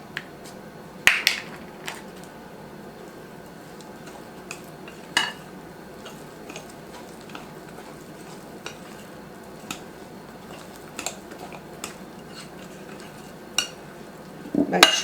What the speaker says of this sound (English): I'm going to stir that